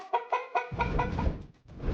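A chicken clucking in several quick, close, fairly loud pulses, followed by a noisy rustling burst.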